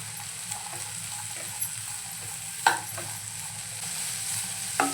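French beans and onions sautéing in a pan, a steady close sizzle with occasional scraping stirs and a few sharp clicks of the spatula against the pan, no voices.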